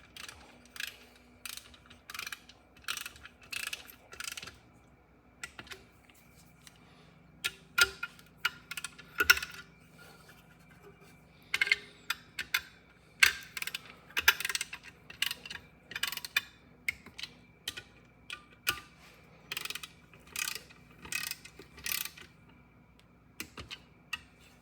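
Ratchet torque wrench tightening bolts on a 1992 Subaru Sambar engine during a rebuild: rapid bursts of close, dry clicking repeat in short runs, with a low steady hum underneath and no talk.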